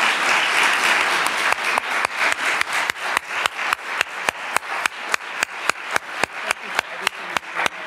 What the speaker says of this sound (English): Can we hear some applause